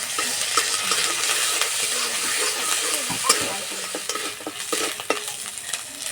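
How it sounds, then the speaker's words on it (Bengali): Ginger garlic paste hitting hot mustard oil in a wok, giving a steady loud sizzle with scraping stirs and small clicks of a spatula, close up and without talk. "তেলে দেবো আদা রসুন বাটা"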